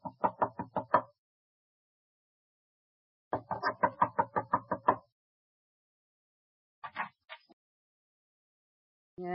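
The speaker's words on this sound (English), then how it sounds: "Knock." Knocking on a door as a radio drama sound effect: two clear bursts of rapid, evenly spaced knocks, eight to ten raps each, then a softer short knock alone.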